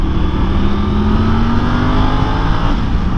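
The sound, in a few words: Triumph Tiger 900 Rally Pro motorcycle accelerating in third gear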